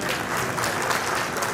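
Dense, steady applause from an audience fills a Rotary district governor installation ceremony, loud and continuous throughout with no break.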